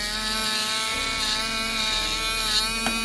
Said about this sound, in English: You're going to hold the drill like this